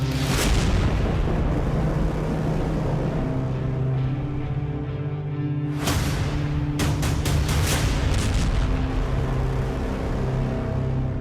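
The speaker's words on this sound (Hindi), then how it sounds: "मंगलवार को कीव में हुए रॉकेट के इस तरह के हमले" Explosions from a rocket attack on Kyiv: a loud continuous rumbling roar with a sharp blast near the start and a cluster of sharp bursts midway, all under sustained low booming.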